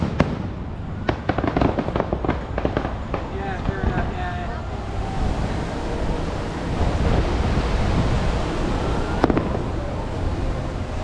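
Harmonious fireworks show at Epcot, Walt Disney World, bursting behind trees at a distance: a rapid run of sharp pops and cracks early on, then a steady rumbling wash of booms under wind noise.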